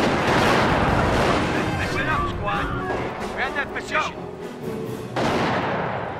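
A battlefield clash in the World War II strategy game Company of Heroes, with loud, booming shots and a rifle crack amid steady combat noise and voices over it.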